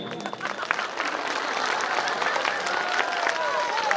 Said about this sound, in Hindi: आप नहीं मानते तो ताली बजा ही दीजिए।